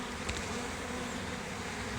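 A honeybee swarm still in swarm mode hums with a steady, dense buzz throughout, close by and continuous with no talking.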